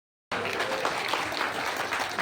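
Crowd applause breaks out suddenly at a college annual prize distribution function in Dharamshala, a steady dense clapping from many hands that holds evenly to the end.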